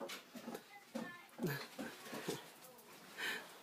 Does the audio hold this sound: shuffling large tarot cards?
no